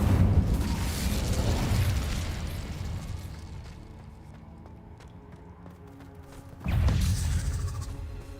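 Incendio fire spell blast in Hogwarts Legacy, a loud burst of roaring low rumble at the start that fades over several seconds, then a second strong whoosh near the end.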